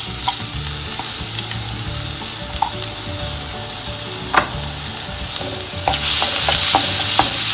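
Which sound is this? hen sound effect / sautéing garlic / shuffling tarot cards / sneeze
sautéing garlic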